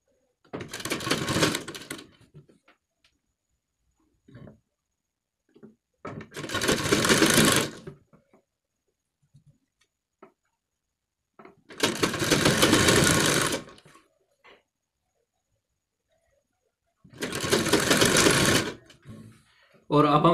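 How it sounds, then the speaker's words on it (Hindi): A sewing machine stitching the back neck piece of a collar-neck garment runs in four loud, close bursts of rapid stitching, separated by quiet pauses with faint handling clicks. "जिस तरह से हमने गले पर सिलाई लगाई है सेम इसी तरीके से हमने इस पर भी सिलाई लगा देनी है"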